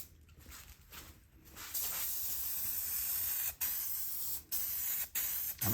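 SEM Color Coat plastic paint sprays onto Datsun 280Z interior panels in close, steady hissing bursts from an aerosol can, each run broken by short gaps.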